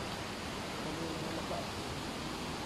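A steady, dense rush of falling water at a bathing waterfall during hot weather, even and continuous throughout with no distinct breaks.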